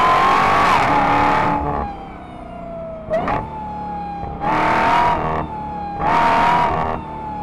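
A 2023 Dodge Charger Hellcat Redeye accelerates hard in several loud bursts, with a supercharger whine rising through each pull and brief easing between them, heard close from inside the car.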